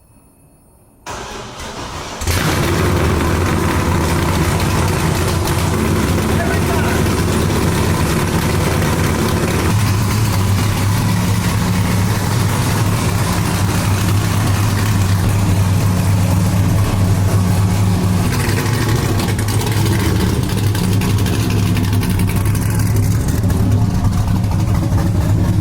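An old car's engine cranks briefly and catches, then settles into a loud, steady idle with a deep rumble that holds for over twenty seconds, close up, with a slight change in tone partway through.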